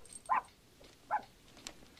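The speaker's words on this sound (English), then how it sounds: "It's a puppy, isn't it?" A puppy inside a gift box gives two short, muffled whimpers about a second apart, faint and close, followed by a fainter squeak in an otherwise quiet room.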